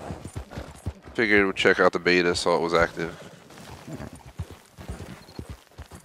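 Horse hooves gallop in Red Dead Redemption 2's online beta, a steady clip-clop running beneath someone talking over them.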